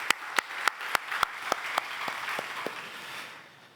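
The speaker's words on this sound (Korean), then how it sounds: "우리 사랑을 담아서 격려의 박수 드리겠습니다" In a church, one person claps about eleven sharp, evenly spaced times, fading toward the end over a faint background murmur.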